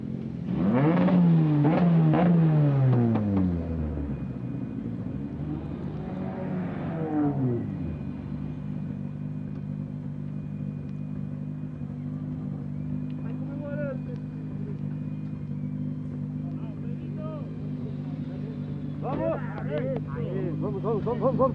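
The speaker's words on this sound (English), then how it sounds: "Here are the cars arriving to the Parc Fermé." Touring race cars roll into parc fermé at a South American TCR event, one engine revving and sweeping down in pitch up close before settling into steady low idling rumbles. A voice speaks over the engines.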